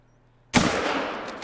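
A single loud rifle shot in the hunting game theHunter: Call of the Wild, on the Layton Lake District map, bursts sharply out of quiet and trails off in a long rumbling echo.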